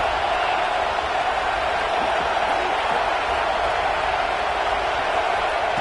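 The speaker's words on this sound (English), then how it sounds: "This crowd is trying to inspire this defense to make a big red zone stop." A stadium crowd at an American football game roars steadily as the home defense tries for a red zone stop, a dense, loud, continuous wall of cheering noise with no clear break.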